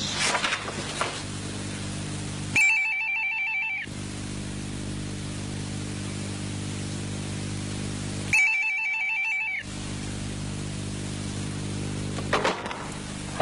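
A telephone rings in two loud, separate electronic bursts, each about a second long, with a quiet room hum between them.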